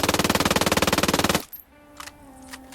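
A submachine gun in Ghost Recon: Wildlands fires one long, rapid full-auto burst of evenly spaced loud shots for about a second and a half, then cuts off into quiet game ambience with faint tones.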